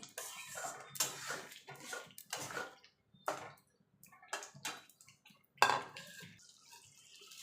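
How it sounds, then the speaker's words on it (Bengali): Egg is stirred into spinach in a pan, with intermittent scraping and clinking of a utensil against the pan in short bursts separated by quiet gaps, including one sharper metallic knock. "ডিমটা দিয়ে ভালো করে মিশিয়ে নেব"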